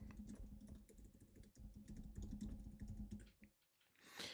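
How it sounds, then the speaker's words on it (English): Rapid typing on a computer keyboard, close, dense keystroke clicks in quick bursts over a low steady hum, pausing briefly near the end before a final rustle, with no speech. "I would type in digital coloring books"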